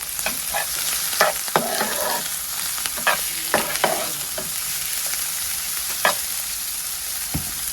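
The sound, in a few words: chopped onion frying with garlic and ginger in pan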